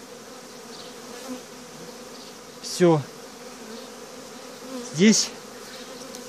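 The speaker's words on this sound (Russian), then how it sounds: "Пчелы есть, все есть." Honey bees hum in a steady, close drone at an opened hive during a spring inspection, with a couple of brief louder buzzes as bees fly past, and a few quiet spoken words.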